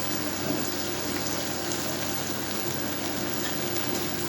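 Tomato puree, 500 grams, added to a hot pan with ginger garlic paste for boneless achari chicken handi, crackling in a steady, dense, rain-like sizzle that holds evenly throughout with no talking.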